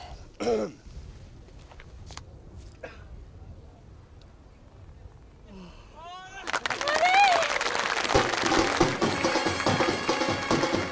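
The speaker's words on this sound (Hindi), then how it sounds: "तालियां सुनी?" A crowd bursts into sustained applause and clapping, rising loud after a few quiet seconds of coughs, throat clearing and scattered taps, with voices mixed in.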